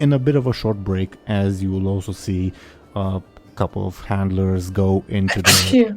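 A single short sneeze bursts out near the end, amid steady conversational talk between people during a break in a tabletop role-playing session.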